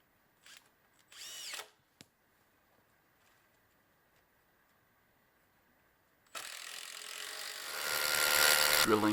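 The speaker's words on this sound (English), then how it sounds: "Drilling boulders for footings" A power drill boring into boulders for platform footings outdoors, starting after a few brief knocks and a quiet stretch, then running steadily loud and close for the last few seconds.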